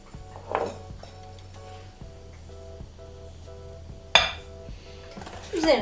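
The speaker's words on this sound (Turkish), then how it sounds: "Şimdi unumuzu ekliyorum." White flour goes into a bowl for sourdough bread, with soft clinks and knocks of a utensil and bowl, a few sharper taps and a scraping rattle near the end, close by and fairly quiet, with no talking.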